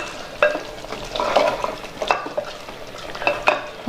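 A spatula scrapes and stirs a spice masala frying in oil in a pan, sharp repeated stirring strokes over a soft sizzle, close by with no voices.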